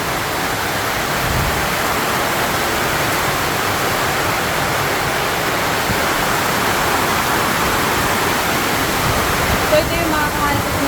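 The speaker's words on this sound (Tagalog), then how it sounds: "Lumalaki yung tubig at sumasagwak dito." Rising floodwater rushing and splashing during a typhoon, a loud, steady roar of churning water that fills the whole stretch, close by and unbroken, with no talk over it.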